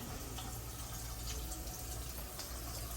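Water pours steadily from the tap of a Lamon LW-03 countertop water filter system, a continuous close splashing stream with no pauses.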